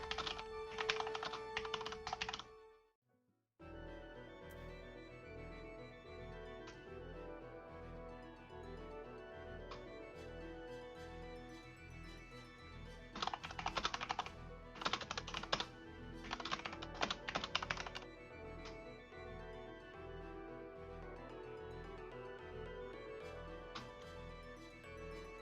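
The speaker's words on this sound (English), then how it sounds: "Can you tell I got quiet because I was typing?" Steady keyboard typing runs for most of the span, with quick key clicks and a few denser bursts. It sits over continuous background game music from Final Fantasy 14, after a brief pause near the start.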